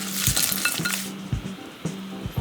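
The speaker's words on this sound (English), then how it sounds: "Now let's add the balsamic vinegar" Balsamic vinegar reduction hitting Brussels sprouts in a hot pan, a bright loud sizzle that fades after a second, with repeated clinks of a utensil against the pan throughout.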